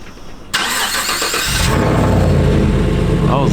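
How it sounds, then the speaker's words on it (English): A stock 2016 Chevrolet Silverado single cab truck cold-starts after a brief quiet moment: a sudden loud crank catches and settles into a steady, deep, rumbling idle that stays close and loud to the end. "let's get a cold start of this truck"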